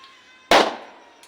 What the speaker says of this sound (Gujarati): પેલો ફુગો ફોડ નાખ્યો છે